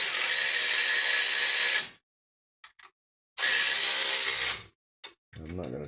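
A ratchet wrench tightens the bolts on a Skyjacker dual-shock steering stabilizer on a Dana 60 axle of a 440 Plymouth Trailduster, heard as two long, loud bursts of rapid clicking separated by a pause, plus a few short clicks.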